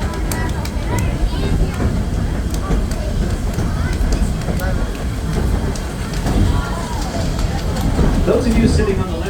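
A train riding along on a scenic rail trip, with a steady low rumble and rolling rail noise that fills the whole stretch, while a voice talks over it.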